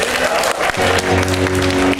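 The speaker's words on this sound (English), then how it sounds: "Give her a round of applause." A loud round of applause and cheering from an audience at a live improv comedy show, dense and close, with voices mixed in and a brief dip partway through.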